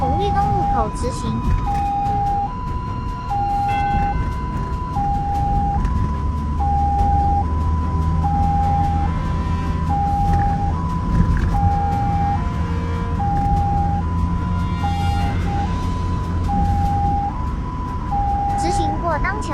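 An ambulance on an emergency run through rush-hour traffic wails a two-tone siren in a steady alternating rhythm, heard from inside the vehicle over road and engine noise, with a navigation voice speaking at times.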